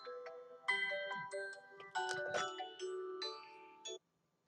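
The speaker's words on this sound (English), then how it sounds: "apparently I left my ringer on my phone. And my brother's calling me" A mobile phone ringtone sounds for an incoming call during an EverQuest game session: a bright, melodic electronic tune of stepped tones with an upbeat rhythm, playing close and clear for about four seconds before cutting off abruptly.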